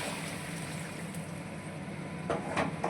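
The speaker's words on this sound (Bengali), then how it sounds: "এবার আমি গরম জল দিয়ে দেবো ওর মধ্যে" Hot water pours into a pan of fried cauliflower curry, making a steady close rushing and trickling that swells slightly toward the end, with no talk.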